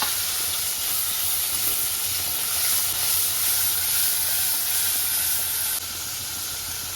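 Onion, ginger-garlic paste and tomato sizzle in an overheated wok while cooking a matar mushroom curry, giving a close, steady hiss that runs unbroken and softens slightly near the end.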